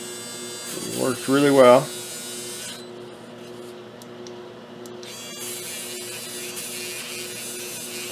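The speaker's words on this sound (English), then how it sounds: "One of my favorite tools to clean that port out is a little tiny Dremel with a low wire wheel." A tiny Dremel with a small wire wheel buzzes in a high-pitched whir while cleaning a brake port on a 1999 Honda Foreman 450ES, running steadily close by while someone speaks over it briefly.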